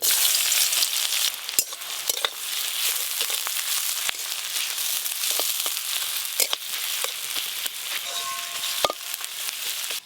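Chopped onions fry in mustard oil, a steady bright sizzle with scattered crackles and pops running alone for about ten seconds at close range.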